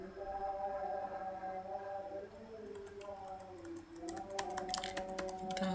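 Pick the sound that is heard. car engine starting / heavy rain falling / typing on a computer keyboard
typing on a computer keyboard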